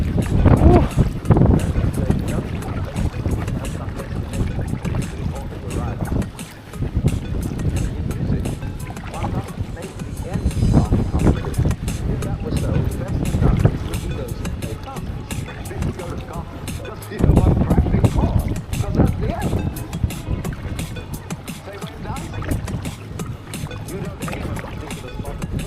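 Strong gusting wind buffets the microphone out on a kayak at sea, a loud continuous roar with surging gusts, while a person talks over it at times.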